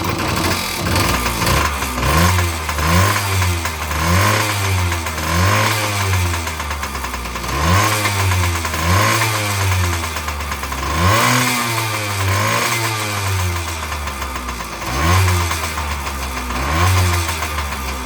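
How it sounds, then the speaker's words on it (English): A 1977 Yamaha GT80 motorcycle engine runs loud and close, with a throaty idle broken by repeated rising-and-falling revs in a steady cycle for the whole stretch. "I put a little bit of fuel to it so I could fire it up."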